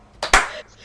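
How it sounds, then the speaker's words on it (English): Two muffled hand claps land in quick succession, soft and close, followed by a faint lingering room tone. "You hear a slow, muffled clap."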